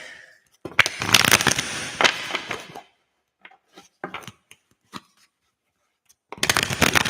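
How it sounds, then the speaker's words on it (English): Close riffling and rustling of a tarot or oracle card deck being shuffled in two bursts, with scattered light taps and a quiet gap between. "let's shuffle this deck"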